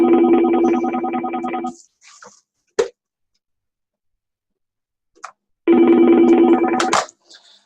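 A telephone rings twice in loud, close bursts of warbling electronic tone separated by a few seconds of silence and a brief click.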